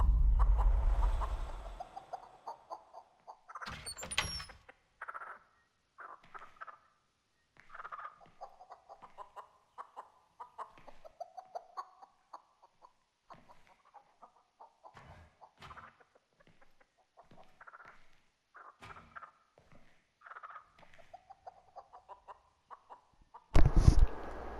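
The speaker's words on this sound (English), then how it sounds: "used real chickens for the audio for Nugget" Real chickens cluck and murmur close by in a long, irregular stream of short calls, with a few louder squawks near the start and a sharp burst at the end.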